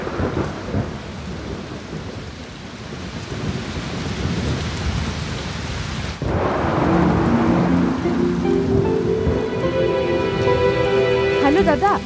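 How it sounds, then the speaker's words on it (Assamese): Heavy rain pouring down steadily in a thunderstorm, with a dense rushing hiss and low rumbling thunder. Partway through, the sound grows louder and fuller, and a faint voice can be heard under it. "ইমান বৰষুণ দিছে"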